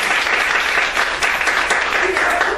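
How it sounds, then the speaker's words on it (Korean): An audience at a parents' lecture claps, a dense, even burst of applause that carries on throughout at moderate loudness, with some talk mixed in. "박수를 해요"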